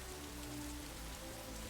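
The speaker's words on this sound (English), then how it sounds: "It's going to rain." Steady rain falls in Dynasty Warriors 8 Xtreme Legends during the Battle of Fan Castle, a continuous broadband patter with a low rumble underneath and no voices.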